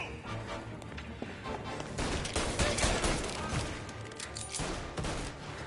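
A shooting video game plays rapid bursts of gunfire, with dense overlapping shots and crashes at moderate loudness throughout.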